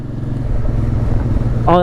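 Honda Transalp motorcycle engine runs steadily near the microphone on a ride across Dartmoor, a constant low drone with a brief rising tone at the end.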